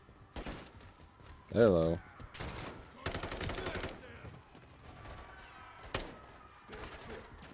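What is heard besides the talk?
gunfire from the video game Call of Duty: Modern Warfare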